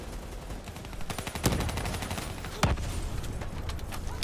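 Gunfire in the Call of Duty video game, rapid bursts of automatic shots crackling throughout with two sharper, louder reports standing out, dense and busy but mid-level in volume.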